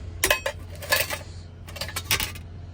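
A metal spoon clinks and rattles among small loose items pulled from an old Dodge's ashtray, a few clustered bright jingles in two bursts, close and alone.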